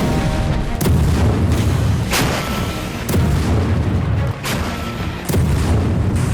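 Heavy booms and blasts from ground fighting in Gaza, with gunfire and explosions, come as several loud, rough impacts over a constant low rumble of distant fire; no talking.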